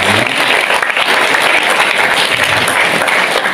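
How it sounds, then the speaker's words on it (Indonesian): Audience applause fills a school hall at an award ceremony for SMA Negeri 1 Gondang in Mojokerto, a steady, dense wash of many hands clapping close by, with no break for the whole stretch. "Tepuk tangan untuk Pak Toyo."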